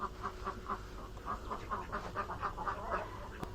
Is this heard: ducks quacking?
yes